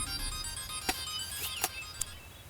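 A phone rings with a steady electronic ringtone of bright tonal notes and a few short sharper blips on top, heard alone without voices.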